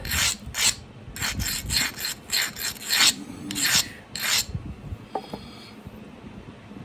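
Stone edge ground with an abrasive while pressure flaking a point, a series of about a dozen close rasping strokes in steady rhythm, then quieter scraping and a few light taps.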